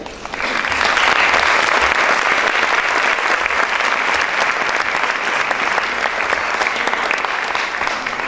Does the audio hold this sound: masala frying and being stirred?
no